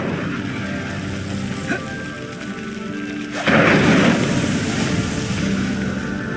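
An Incendio fire spell in a video game ignites with a sudden whooshing roar midway, then a steady crackling rush of flames over a soft ambient background.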